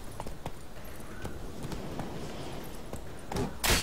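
Horse hooves clop at a run in The Witcher 3 video game, with a steady pattern of hoofbeats that closes with a loud burst near the end.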